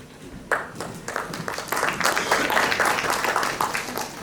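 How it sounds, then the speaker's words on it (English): An audience at a platinum jubilee celebration in Kolkata breaks into applause after a sudden start, the clapping building into a dense, moderately loud patter that holds steady to the end. "Please give a round of applause for His Most Reverend Bajel Murmu."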